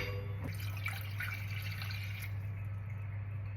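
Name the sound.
water poured into a glass for boiling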